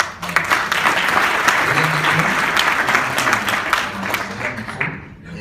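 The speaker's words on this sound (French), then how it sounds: "Alors, on va un peu l'applaudir" Loud, dense applause from an audience at an innovation award ceremony at a business club, steady clapping that holds for several seconds before fading out at the end.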